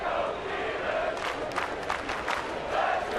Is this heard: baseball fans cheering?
yes